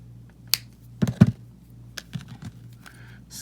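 Snipping off a small extra piece of aluminum wire for handmade earrings with wire cutters, heard as a few sharp, close clicks and snaps over a quiet background.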